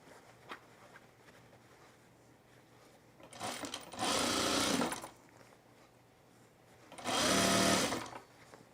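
A sewing machine stitches a fabric bag in two loud bursts of about a second and a half each, with quiet pauses between and around them.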